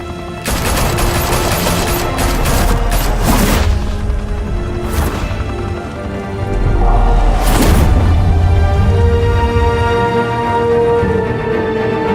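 Gunfire in the video game Batman Telltale, loud and close: heavy volleys of rapid shots over a droning musical score, with sharp bursts returning several times.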